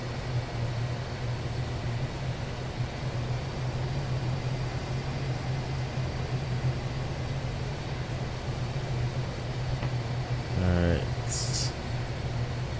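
Jet aircraft idling and rolling steadily on the ground, a United Airlines Boeing 757 taxiing in the Prepar3D v5 flight simulator, with a constant low engine hum and whine throughout and a brief clicking burst near the end.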